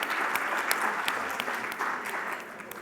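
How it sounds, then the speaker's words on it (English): A healthcare conference audience applauds for several seconds, a dense, even patter of clapping hands that fills the room and slowly tapers. "Round of applause."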